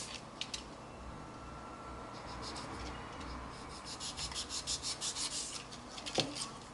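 EVA foam being cut by hand to shape the nose of a 3D Thomas craft figure, heard as a close, continuous dry rubbing and scraping with a run of short rhythmic strokes toward the end and no talking.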